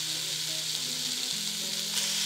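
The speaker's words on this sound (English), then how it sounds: "We're gonna put in our bacon." Steady, bright sizzling and crackling of bacon frying without oil in a hot pot, close and continuous, with a low electrical hum beneath.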